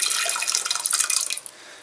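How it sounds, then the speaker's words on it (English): Jalapeno jelly mixture is poured into a saucepan, a bright, continuous liquid splashing and trickling for under two seconds that tapers off at the end, close and alone. "Just going to pour this into my saucepan"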